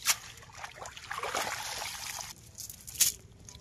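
Freshly netted crabs and small prawns are rinsed in river water on an eroding Sundarbans riverbank, with soft, fairly faint splashing and trickling that rises and falls for a few seconds.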